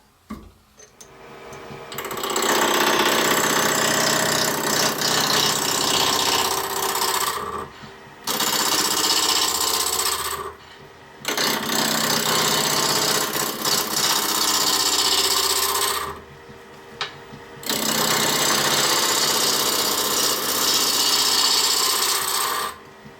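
A wood lathe turns a workpiece held between headstock and tailstock while a chisel rounds it, producing loud, continuous rough scraping and rasping in long stretches broken by three short pauses.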